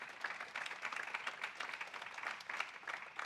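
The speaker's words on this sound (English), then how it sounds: "Please, a round of applause for all of our participants again." Audience at a UN General Assembly side event on women's collaborative action gives a round of applause for the participants, steady clapping at a very low, distant level.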